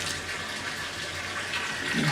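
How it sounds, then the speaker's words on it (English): Cold water runs steadily into a sink to start a wash cycle for a dairy milking pipeline, a continuous close, even rush with no voices. "this is just going to fill the sink and then start running a wash through the pipeline"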